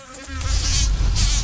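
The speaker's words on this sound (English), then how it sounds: "Bees will come." A loud, steady insect buzz drones close by, rising in the first fraction of a second and then holding without pause.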